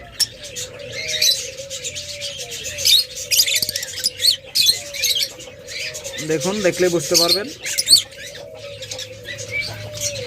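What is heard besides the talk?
pair of Fischer's lovebirds at the nest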